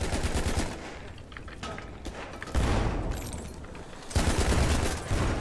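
Heavy automatic gunfire from the video game Battlefield 1 roars in loud repeated bursts separated by quieter gaps, rapid and close.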